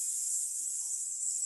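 A voice imitates a snake with a long, steady hissing "S" sound, breathed out evenly and close during a children's yoga breathing exercise. It holds continuously for the whole stretch without a break.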